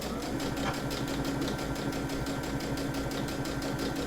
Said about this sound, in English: just sew down just to hold that fabric underneath